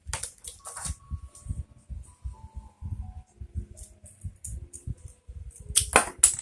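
Wooden craft sticks being cut for a miniature house: a series of sharp, close clicks and snaps at an irregular pace over a quiet background, growing denser toward the end.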